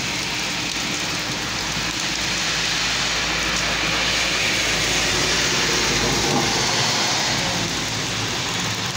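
Heavy rain in Ha Lin Pei Village, a dense, constant hiss of falling drops that stays steady and loud throughout without pause.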